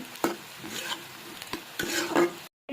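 French fries frying in a pan, a close crackling sizzle of oil with a few spatula stirs and clinks, ending abruptly.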